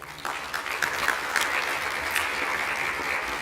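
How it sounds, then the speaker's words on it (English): Applause from a school audience at a district state-of-the-schools address fills the room, steady dense clapping that starts abruptly and holds at a loud, even level throughout. "So I just want to give her a round of applause."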